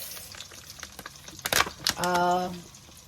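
Curry powder tipped into a pan of sizzling corned beef jollof rice brings a brief crackling burst and a stir, then a short hum, over a low background sizzle.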